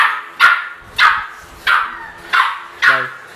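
Dogs at a breeding kennel bark sharply five times in a steady rhythm, loud and close, with brief quiet gaps between each bark.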